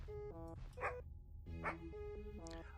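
Stylized dog barks and yips in the video game Something In The Well, a quick series of short, pitched woofs with a whimpering tone, faint and close.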